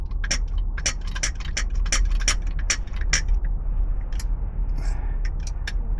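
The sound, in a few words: crimping tool being operated on battery cable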